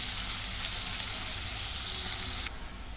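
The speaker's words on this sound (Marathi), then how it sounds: "आता कांदा चांगला भाजून घेते" Two medium onions frying in a pan for soybean chunk curry: a steady, close hissing sizzle that runs throughout and drops slightly in intensity near the end, with no voices.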